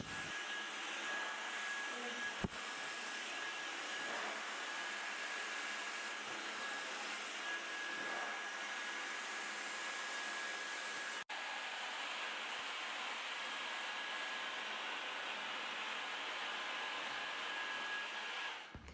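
A hair dryer blows steadily while drying hair, a loud continuous broadband rushing whoosh with a faint high whine, running without pause and briefly dipping twice.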